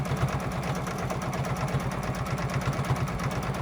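A sewing machine runs at a fast steady clip during free-motion quilting of a Mini Stacks quilt, its needle chattering in a tight rhythmic pulse close by with no talk.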